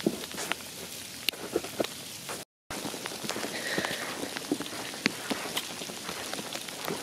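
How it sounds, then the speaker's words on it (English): Rain falling on a surface, a steady patter of drops with scattered louder taps close by, broken by one brief gap of silence. "So it's kind of raining now."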